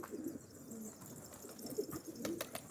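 Pigeons coo in a coop, soft low calls repeating at a fairly steady pace over a faint background, with no voices heard.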